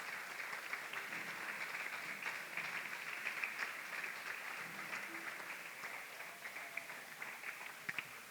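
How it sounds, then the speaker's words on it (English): Audience clapping for teachers and staff at a graduation ceremony, a steady, fairly distant round of applause that holds evenly throughout. "Let us all give our teachers and staff a round of applause."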